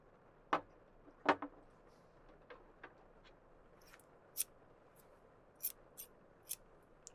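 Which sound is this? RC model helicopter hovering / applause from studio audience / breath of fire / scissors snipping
scissors snipping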